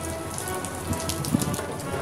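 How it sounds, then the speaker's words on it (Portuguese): Rain falls steadily at an airfield beneath a parked aircraft with a double landing gear, a dense, close patter of drops on surfaces with occasional louder splats and no talking. "Olha essa chuva, tá caindo"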